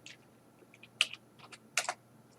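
Someone types on a computer keyboard while entering a command in drafting software, producing quiet, irregular clicks with a couple of sharper keystrokes over a faint background hum.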